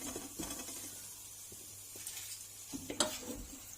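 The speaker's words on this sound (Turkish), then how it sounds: "Devamlı karıştıralım ki unumuz yanmasın." Flour stirred into melting margarine in a pan for helva gives a soft, low sizzle with gentle scraping and patter of the spoon, quiet and close.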